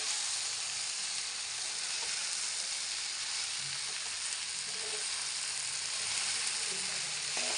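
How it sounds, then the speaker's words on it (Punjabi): Fried okra and onions sizzle in a pan while being mixed, a continuous soft hiss with faint scraping stirs, quiet and close, with no talking. "ਭਿੰਡੀਆਂ ਤੇ ਪਿਆਜ਼ਾਂ ਨੂੰ ਚੰਗੀ ਤਰ੍ਹਾਂ ਮਿਕਸ ਕਰ ਲੈਂਦੇ ਆ"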